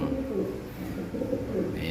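Pigeons coo continuously in a loft among many birds, a low throaty burbling that fills the whole clip at close range with steady background ambience.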